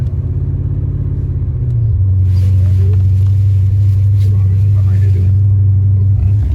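A 1982 Porsche 928 idles with a deep, steady engine rumble that rises into a heavier, louder drone as it reverses on soft dirt.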